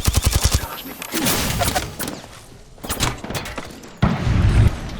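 Apex Legends game gunfire with rapid bursts of automatic shots, loud and close, broken by thuds and mechanical clanks, with a voice speaking briefly amid the action.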